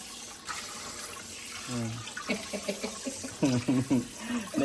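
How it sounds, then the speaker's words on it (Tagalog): Water gushes steadily from a pipe fed by a Jetmatic hand pump on a well, a continuous rushing flow, with a person talking over it in bursts. "Ang lakas ng tubig ko."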